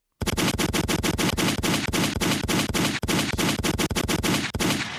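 Rapid bursts of gunfire played back from a recording, dense and continuous, with sharp repeated cracks in quick irregular succession and only brief gaps throughout.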